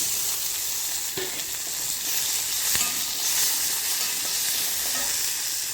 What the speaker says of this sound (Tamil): இப்போ வெங்காயம் இந்தளவுக்கு வதங்கிடுச்சு இது கூட தக்காளி சேர்த்துக்கலாம்